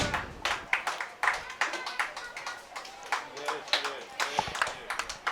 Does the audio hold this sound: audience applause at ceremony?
yes